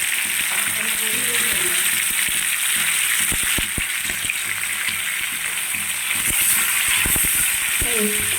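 Pomfret fish sizzles steadily in hot coconut oil up close, with scattered pops and crackles and a voice faintly in the background.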